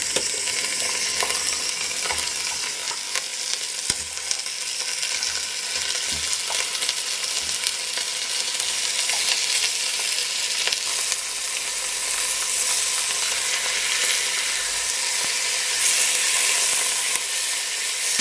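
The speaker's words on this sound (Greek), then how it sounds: "Ακούτε πως τσιρτσιρίζει. Αυτή είναι η αρχή της νοστιμιάς." Pork pieces brown in their own fat in a hot pan, giving a steady, dense sizzle and crackle with occasional sharp pops, close and continuous throughout with no talking.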